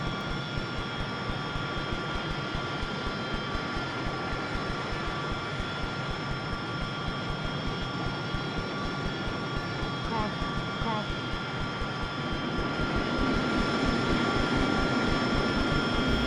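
An AV-8B Harrier jet engine idles after start-up in the DCS flight simulator, a steady whining drone with tonal hum that builds slightly near the end, continuous and even.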